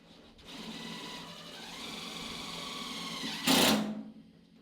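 A power driver runs a self-tapping screw into a metal bracket on a sawmill, a steady whirring drone of several seconds building and ending in a brief louder burst as the screw seats, close by.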